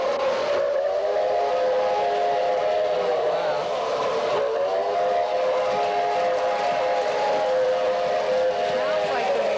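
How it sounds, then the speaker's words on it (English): A model train's whistle sounds steadily as the train comes out of an underpass, a sustained multi-tone blast held for several seconds over a constant rolling rumble, fairly loud and close. "Now you'll listen to the whistle as Lori gets it coming out of the underpass."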